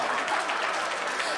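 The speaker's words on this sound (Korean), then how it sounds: "무조건 박수 치나 봐요" A group of trainees gives a short burst of steady, dense clapping, with voices talking over it.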